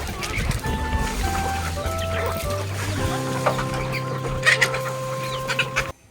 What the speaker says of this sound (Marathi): कोंबड्या बघा त्याच्या कशा पाठोपाठ जात आहेत